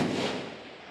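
A long-range rifle shot on an outdoor shooting range lands as a loud broadband blast at the very start, then its report rolls away and decays over the rest of the second.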